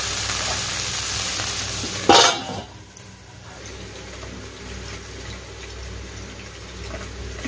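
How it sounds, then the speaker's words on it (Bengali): Okra frying in a pan sizzles steadily and close, with a sudden loud burst of crackling partway through that then settles back to a lower, even hiss. "তো ঢেঁড়সটা ভাজা হোক"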